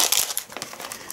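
Small plastic packet of paper clips crinkling, close and crisp, with quick irregular rustles and crackles handled for about a second.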